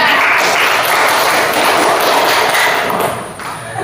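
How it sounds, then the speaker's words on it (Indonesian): Indonesian classroom students clapping together during an algebra lesson, a loud dense wash of applause that holds steady and then tapers off near the end. "Oke, tepuk tangan dulu untuk kita."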